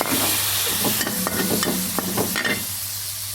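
Eggs sizzle loudly in a hot pan for Thai egg fried rice as soy sauce goes in, a constant frying hiss broken by a quick run of scraping stirring strokes in the middle.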